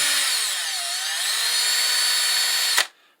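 A high-RPM rotary power tool polishes Ruger SP101 revolver trigger parts, giving a steady, close, loud whirring grind that holds for nearly three seconds and then cuts off abruptly. No one speaks.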